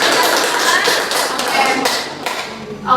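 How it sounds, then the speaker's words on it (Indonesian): A group of villagers at a community health education session claps together in a dense, close patter of hand claps that swells and fades over a few seconds. "tepuk tangan"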